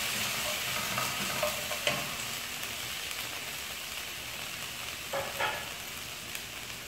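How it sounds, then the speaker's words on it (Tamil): Prawn fried rice sizzles in a pan, a steady frying hiss broken by a few scraping stirs of the spatula, close and fairly quiet with no talking. "ப்ரான் ஃப்ரைட் ரைஸ் பண்ணிட்டு இருக்கோம்"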